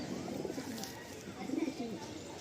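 A male Madrasi (Chennai) pigeon cooing close by, two soft low throaty coos in a brief quiet moment.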